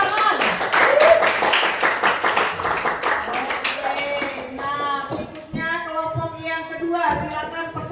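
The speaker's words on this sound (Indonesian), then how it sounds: "Mari berikan tepuk tangan." Classroom students clapping together for a presenting group, loud and steady for the first four seconds, then fading as a voice begins speaking over the tail end.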